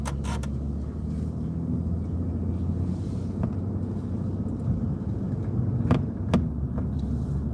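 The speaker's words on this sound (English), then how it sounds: "That was a car don't usually see when you're driving." Car passing on a road near a bridge at night, a steady low engine and tire rumble with wind noise, moderately loud and continuous, with a few sharp clicks over it.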